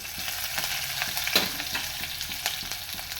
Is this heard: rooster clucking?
no